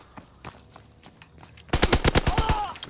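Rapid machine gun fire from the World War II shooter Call of Duty WW2 erupts partway through, a loud burst of closely spaced shots after a quieter stretch of game ambience.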